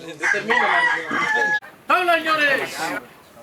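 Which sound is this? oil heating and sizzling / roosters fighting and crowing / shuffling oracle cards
roosters fighting and crowing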